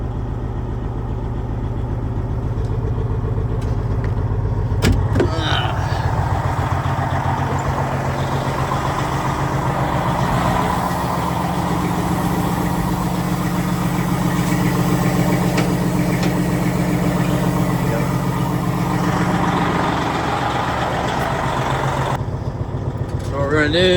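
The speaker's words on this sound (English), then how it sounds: "So vehicle in motion" A truck's engine runs loud and steady for over twenty seconds, rumbling evenly as it pulls away, with a person talking over it.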